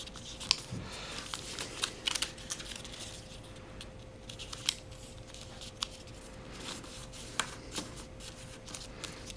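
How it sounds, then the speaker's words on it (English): Paper being folded and creased while making a paper crane, giving soft crinkles and sharp crisp snaps scattered irregularly over a quiet room hum. "take this corner right here, this edge, and match it along the center crease you have right here. Basically just fold these in."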